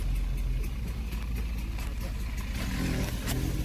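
On an open road a motorcycle engine rises and swells as it passes close by, a rough mid-pitched drone that builds toward the end over steady road rumble.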